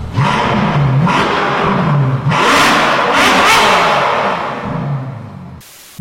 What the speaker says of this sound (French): voilà comment je me mets pour écouter le bruit du moteur